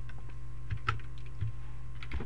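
Keys on a computer keyboard clicking softly in a few scattered, irregular taps over a low steady hum, faint and close, with no talk.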